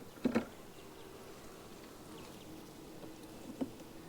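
Excited honeybees from an aggressive colony buzz in an open hive during an inspection, a low steady hum with a couple of brief louder bursts near the start and another near the end, heard alone at moderate distance.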